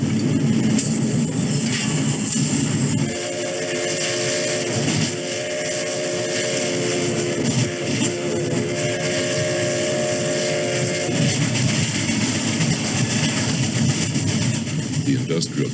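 Old 91, a steam locomotive on the Middletown and Hummelstown railroad, sounds a long sustained whistle over the rumble of the moving train, loud and close, with a narrator speaking over it.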